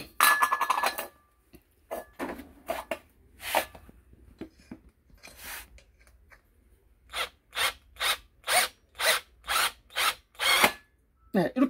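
A 24 mm hole saw on a drill cuts into a thin steel gas canister, heard as a series of close, sharp bursts, scattered at first and then a regular run of short pulses.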